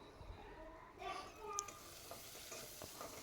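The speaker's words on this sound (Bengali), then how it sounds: "মশলাটা একটু কষিয়ে নিব।" Faint sizzling of a spice paste of garlic, chili, cumin and turmeric being fried and stirred in a pan, with soft scraping and a few clinks over a low hiss.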